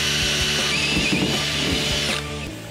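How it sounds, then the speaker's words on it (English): A power drill with a small bit boring a starter hole during a T5 transmission swap on a Mustang, loud and close with a steady whine that drops off near the end; no speech. "So that's what we're gonna drill"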